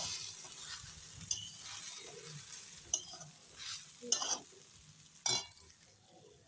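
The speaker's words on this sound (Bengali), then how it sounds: "এখন ভালো করে নেড়ে দিই দেখো একদম পোলাও মতো হয়ে যাবে ডালিয়ার পোলাও" Broken wheat (dalia) being stirred and fried in a pan for a pulao-style dish, with a steady soft sizzle and several sharp scraping clinks of the spoon against the pan, no talking.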